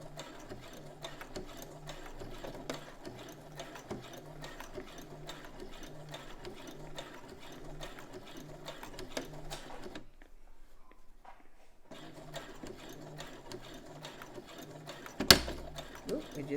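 A sewing machine stitches a dress collar in a quick, even mechanical rhythm, pausing for about two seconds before resuming, with a sharp clack near the end and faint speech in the background.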